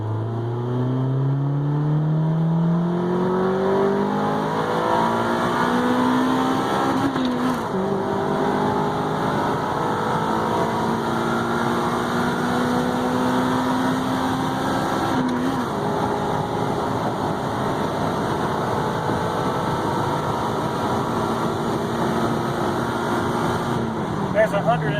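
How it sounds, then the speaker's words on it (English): A 1994 Honda Del Sol with a VTEC engine revs hard in second gear from inside the cabin, its pitch climbing steadily and sweeping upward through the power band with each gear change, loud and sustained over the whole stretch. "listen to the sound of the engine change as I enter the power band"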